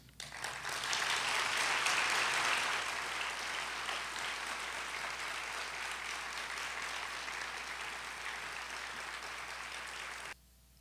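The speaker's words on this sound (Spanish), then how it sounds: "más que merecido el aplauso" Sustained audience applause at a conference on media ethics, a dense crackle of many hands clapping that swells early then holds steady before cutting off.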